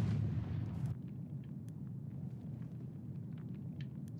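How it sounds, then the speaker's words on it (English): Grenade blasts from the Battlefield 1 video game, a heavy booming burst in the opening second that drops into a steady low rumble of distant battlefield noise, with faint clicks and pops scattered on top. "Couple quick grenades, taking some damage"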